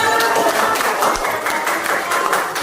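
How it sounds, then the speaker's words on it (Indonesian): A room full of people claps steadily, a brief burst of applause that stays even and fairly loud throughout. "Tepuk tangan untuk Maya."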